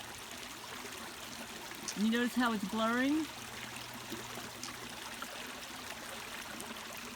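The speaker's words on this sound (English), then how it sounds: "So here's the water running." A stream runs behind a house with a steady, close rushing wash that continues throughout, while someone talks briefly over it around the middle.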